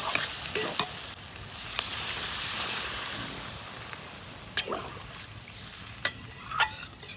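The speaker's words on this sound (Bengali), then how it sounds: "এবার জল দিয়ে দেবো।" Water pours into a pan of frying potatoes and spices, and a steady hiss and sizzle runs throughout with a few sharp clinks of a spoon against the pan. No one speaks.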